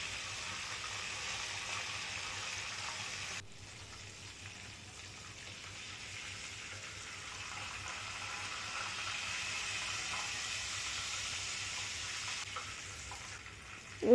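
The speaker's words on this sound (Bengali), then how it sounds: "ওই রকম সেম পদ্ধতিতে এই মাছগুলোকে ভেজে নেব।" Fish frying in hot oil in a pan, a steady soft hiss and crackle of sizzling that runs continuously, quiet and close, with no talking.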